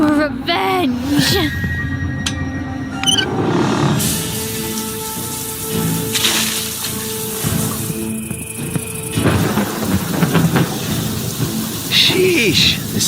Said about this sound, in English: this storm kicked up out of nowhere. Lightning too?